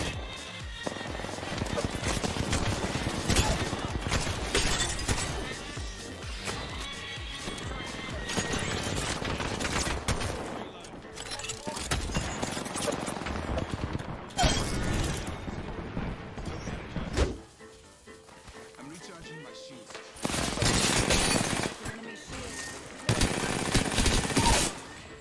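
Gunfire in the video game Apex Legends, repeated bursts of rapid weapon fire that start and stop, with short quiet gaps, mixed under players talking.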